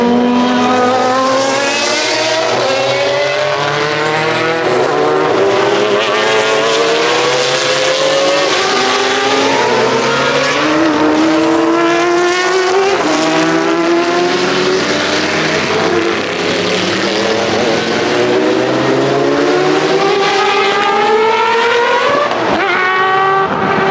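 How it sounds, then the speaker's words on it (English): Classic Le Mans race cars at a car week event roaring past in a continuous stream, loud, close engines rising and falling in pitch as they rev through gears, with overlapping passes and no pause. "here comes the classic Le Mans race that we've all been waiting for"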